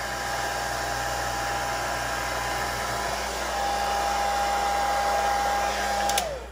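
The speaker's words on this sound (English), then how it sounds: "I'm going to stop there with the hairdryer for now." A hairdryer blows steadily on the motor brushes of a vintage Singer 431G convertible sewing machine, a loud, continuous whooshing roar with a faint whine that shifts pitch just before it switches off.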